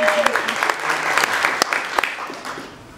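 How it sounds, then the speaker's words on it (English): A crowd at a live discussion event applauds a co-partner from an arts nonprofit. The hand-clapping is brisk and uneven, with some sharper individual claps and a voice briefly audible beneath it. "Give a round of applause."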